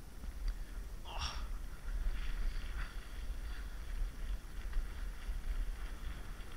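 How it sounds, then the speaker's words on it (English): Wind buffets a camera microphone outdoors, a low rumbling wash with gusty swells under faint background noise and no talking. "Now, the wind is going to be an issue that I'm really curious about."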